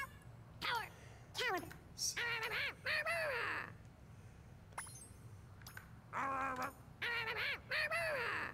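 Screeching bird-like voice effects for an Angry Birds character in a Skylanders video game, a series of harsh, rising caws in short bursts with pauses between, close and loud.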